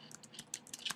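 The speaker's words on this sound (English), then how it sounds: "So I could start typing" Light typing on a computer keyboard, a short run of soft, irregular key taps close by and faint, with no talking over it.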